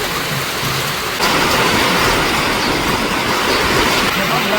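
Rain pours down outdoors during a violent nor'wester storm on a river char, a loud dense steady hiss that swells suddenly after the first second and stays heavy throughout.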